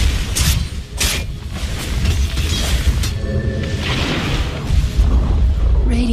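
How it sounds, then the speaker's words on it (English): A Radiant middle tower in Dota 2 is destroyed, heard as loud, dense game audio of booming impacts and crashing bursts with swishing effects layered over a steady rumble throughout. "Radiant's middle tower has fallen."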